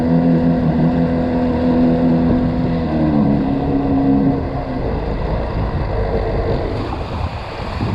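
A Seadoo XP DI personal watercraft runs a lap with a loud, close engine drone that holds steady, then dips and shifts pitch as it turns, with water slapping and rushing underneath.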